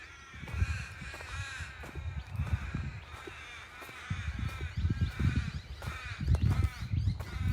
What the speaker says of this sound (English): Can hear the crows in the background.